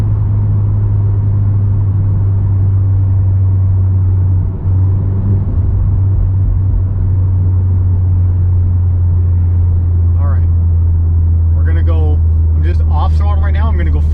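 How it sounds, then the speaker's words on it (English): A VW with a COBB-tuned 7-speed DSG gearbox pulls at half throttle, a steady low engine drone with a dip at one gear change, and someone talks over the later part. "Half throttle. Oh, nice crisp shift, much crisper shift."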